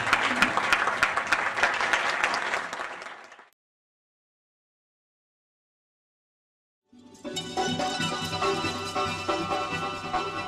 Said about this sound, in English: Let's give yourselves a hand clap,